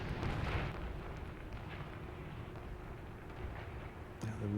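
Bombs dropped from a Japanese aircraft in War Thunder go off in a distant, rumbling explosion. Deep booms open the stretch, then a long low roar fades out, with a few faint clicks and a short tone near the end.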